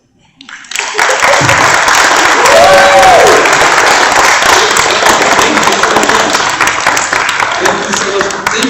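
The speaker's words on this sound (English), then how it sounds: "One more round of applause for all of our storytellers." Sustained audience applause after a personal storytelling event at a church, loud and continuous throughout with dense clapping and a brief voice rising in the middle.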